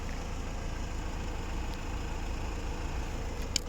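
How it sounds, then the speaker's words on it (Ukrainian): A 2011 Peugeot 308SW 2.0 HDi diesel engine idles steadily close by, a constant low rumbling drone with exhaust noise and no change in pace. "Подивимося зараз по вихлопу."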